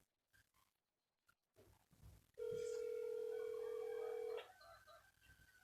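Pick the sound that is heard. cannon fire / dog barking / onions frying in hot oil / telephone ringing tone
telephone ringing tone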